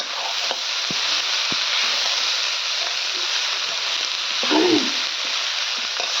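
Chicken head and a vegetable vine fry in a pan, a continuous close crackling sizzle throughout, with a brief stirring scrape partway through.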